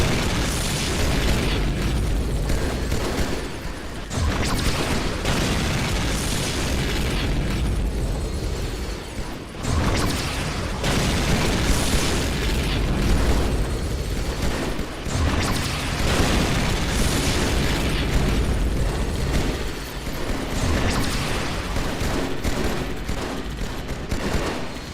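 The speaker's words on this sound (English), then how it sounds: "Anti-aircraft gun." Halo 2 anti-aircraft gun fire mixed with heavy explosions forms a loud, continuous barrage of booms and bursts, with brief dips between volleys and no voices.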